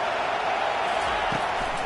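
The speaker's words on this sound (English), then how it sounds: "Here comes this home crowd as the defense tries to get off the field on 3rd down" Steady, dense roar of a home crowd at an Alabama versus UNC college football game on third down, continuous and distant-sounding, with a commentator's voice talking over it.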